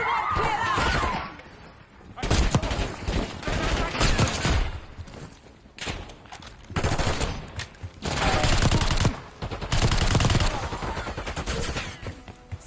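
Heavy automatic gunfire in the Black Ops 6 campaign comes in several loud bursts, with sharp impacts and brief gaps between volleys and voices shouting in the pauses.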